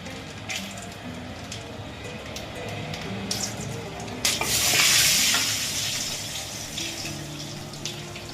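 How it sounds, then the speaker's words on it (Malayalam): Mustard seeds and raw peanuts hit a hot wok and burst into a loud, hissing sizzle that slowly fades, with stirring clatter and faint talk around it. "ചീനച്ചട്ടി ചൂടായിട്ടുണ്ട്. കടുക് ഇട്ട് കൊടുക്കാം."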